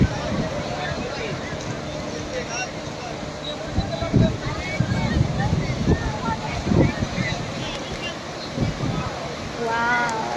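Dragon ride boat out on the sea at Murud beach, with wind and water noise, splashes and waves around the moving craft, and people's voices and shouts mixed in throughout.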